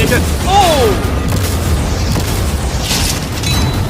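Cannon fire tears through storage containers and a yacht, giving deep booms and crashing debris in a busy, loud mix with voices talking over it.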